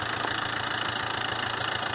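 Small Japanese tractor engine running with a rotary tiller, a loud, steady, rhythmic chugging drone close by with no voices.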